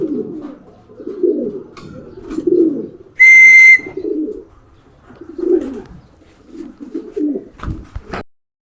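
Racing pigeons coo in low, rounded bursts in a loft after returning from a training flight, with soft repeated calls near and fairly loud, and one brief bright whistle-like tone cutting in midway.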